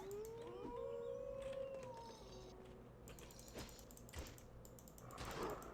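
In a video game, wolves howl in long, wavering cries, one after another, against a steady game soundscape with faint clicking and mechanical noise. No one speaks.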